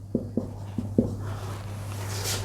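Pen strokes on paper while ledger balances are written for a Class 12 accounts cash flow problem, four short scratchy marks in quick succession, close and fairly quiet over a steady low hum.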